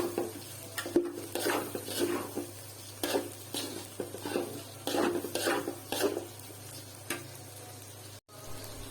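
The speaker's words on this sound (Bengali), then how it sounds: "চালটা ভেজে নিচ্ছি" Polao rice being fried and stirred in a pan for a festive Eid meal, with repeated scraping strokes of a spatula against the pan and a faint sizzle between strokes, heard up close.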